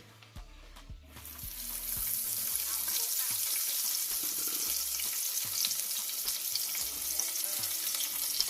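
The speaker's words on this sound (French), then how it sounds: "Je vais commencer par frire le poisson salé" Salted fish known as kobe frying in hot oil, a loud, dense sizzle that erupts after a quiet start and then holds steady with scattered pops and crackles.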